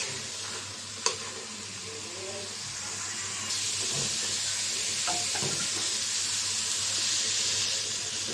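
Water poured into a hot pan of braised small shrimp and ash gourd greens for gravy, a sudden rush of sizzling and hissing steam after a clink, sustained and close.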